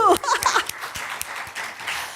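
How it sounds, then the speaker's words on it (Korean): A church congregation at a Friday worship service claps briefly together, a short patter of applause with some light chuckling, heard from the middle of the room. "하나님을 영광의 박수."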